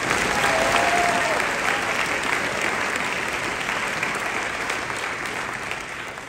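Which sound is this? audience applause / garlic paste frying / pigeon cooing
audience applause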